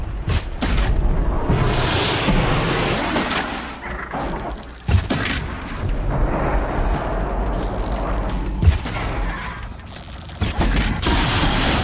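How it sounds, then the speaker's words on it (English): Distant explosions in the video game Horizon Zero Dawn rumble under a dense, continuous roar of game ambience, with a few sharper thuds standing out along the way. "Explosions in the distance."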